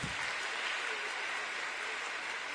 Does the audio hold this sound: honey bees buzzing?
no